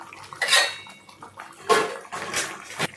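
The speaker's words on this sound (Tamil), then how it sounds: "இப்போ நம்ம வேக வச்சு வச்சுருக்க உருண்டைகளை இதில் சேர்த்துக்கலாம்" Boiled lentil balls are dropped into tamarind kuzhambu gravy in a cooking pot, giving a few close clanks and scrapes of utensil against the pot with soft wet splashes, in three short bursts and no talk.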